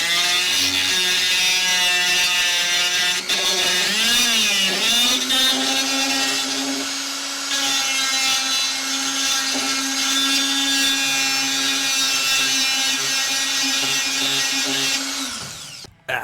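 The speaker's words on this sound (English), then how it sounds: "So let's do some sanding here. We got a sanding drum." A loud, steady high-pitched whine of a Dremel rotary tool with a sanding drum sanding wood, running continuously, its pitch dipping briefly early on before holding steady, then cutting off at the end.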